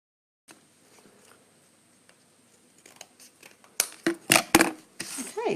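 Scissors snip through paper to cut out two tags, faint at first, then a cluster of sharp, close cuts in the final seconds.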